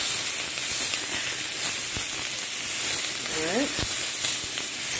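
Oxtail pieces searing in a pot, a constant close sizzle and hiss with a brief spoken word and a few light clinks.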